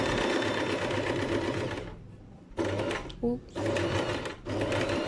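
A sewing machine stitches fabric in loud, rapid mechanical bursts, pausing twice briefly before running again at speed, close up, with a short spoken exclamation in one gap.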